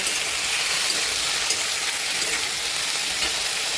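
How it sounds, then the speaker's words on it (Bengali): Potato pieces and green chilies sizzle loudly in hot oil in a pan while being stirred, a dense, continuous frying hiss heard up close without pause. "আলুটা দিয়ে ভালো করে এইভাবে নেড়ে নেব।"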